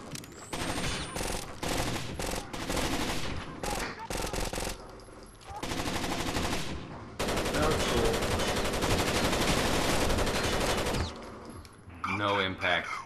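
Sustained automatic gunfire in the tactical shooter Rainbow Six Vegas 2, loud, dense bursts of rapid shots broken by brief pauses, with players talking over the shooting.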